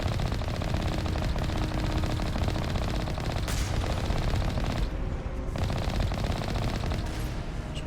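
A turret in Mass Effect pours out continuous automatic fire, a dense, loud, unbroken rattle of rapid shots across the whole stretch, with brief bright bursts and cracks over the top.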